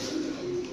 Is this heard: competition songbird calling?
yes